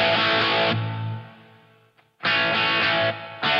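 Electric guitar through a Gibson SG bridge pickup, thin-toned, with two loud strummed chords ringing out, the first decaying into a brief gap before the next hit.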